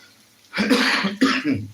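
Two or three harsh coughs with a throat-clearing quality, loud and close, heard alone in a home kitchen while a squid stir-fry is being prepared.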